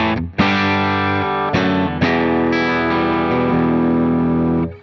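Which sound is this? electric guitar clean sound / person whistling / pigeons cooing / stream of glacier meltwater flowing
electric guitar clean sound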